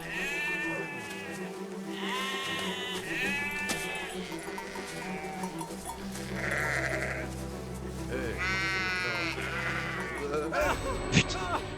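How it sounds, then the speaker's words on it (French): Repeated sheep bleats from a flock in the World War I video game Soldats Inconnus, wavering calls recurring throughout at moderate distance over steady game ambience, with a few other game effects. "Trop de moutons."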